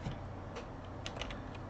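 Light, rapid keystrokes on a computer keyboard while a library name is typed into an Arduino library manager search, soft and close with a few sharper clicks.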